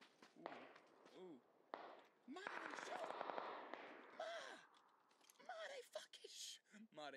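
Distant shooting outside in PUBG, scattered pops and a brief dense crackle of shots in the middle, fairly faint under a player's frequent talking.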